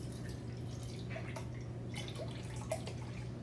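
Two cups of water pour into a cooking pot in a home kitchen, making faint, steady splashing and dripping over a low background hum, with no talking.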